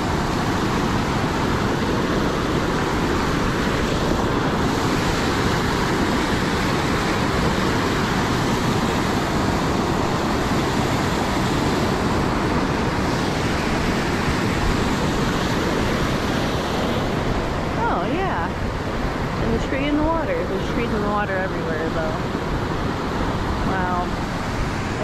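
A flooded river in northern Illinois after heavy storms rushes in a loud, steady roar of churning water that fills the whole stretch, with a few faint high squeaks near the end.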